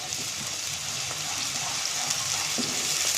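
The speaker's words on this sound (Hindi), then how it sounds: "अब हम इसमें ऐड करेंगे लहसुन अदरक का पेस्ट 1 टेबलस्पून, और इसको हम अच्छी तरह से फ्राई कर लें" Garlic-ginger paste fries with softened onions in a pan for egg biryani, giving a steady crackling sizzle with faint stirring sounds throughout.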